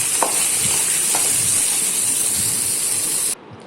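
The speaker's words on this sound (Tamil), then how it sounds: "அப்புறம் ஒரு தக்காளி போட்டு நல்லா வதக்கிக்கோங்க" Chopped tomato sautés in a hot pan with oil, giving a steady, close hiss and sizzle with faint stirring taps, until the sound cuts off abruptly.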